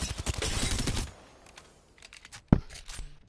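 R99 submachine gun in Apex Legends firing a fast rattling burst up close for about a second, followed by quieter scattered clicks and a single sharp shot, with no talking.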